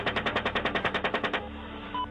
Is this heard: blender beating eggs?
no